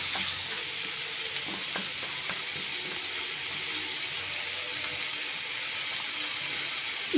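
Chicken pieces sauté in oil for a pepper chicken fry, giving a soft, even sizzle throughout with occasional light clicks of a spoon stirring the pan.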